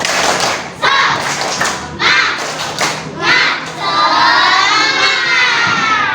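A classroom of schoolchildren claps in a quick rhythmic pattern for the tepuk semangat chant, ending in loud group shouting, all close and lively.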